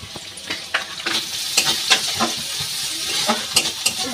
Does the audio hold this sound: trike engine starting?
no